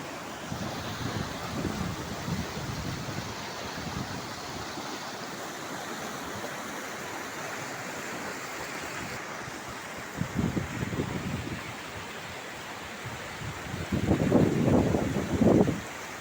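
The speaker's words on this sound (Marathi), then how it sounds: "पावसाळ्यामध्ये ह्या तलावातलं पाणी धबधब्याच्या रूपानं असं वाहत आहे" Continuous rushing water pours steadily from a small monsoon waterfall fed by a lake overflow near Kaneri Math, Kolhapur, with gusts of wind buffeting the microphone in a few bursts.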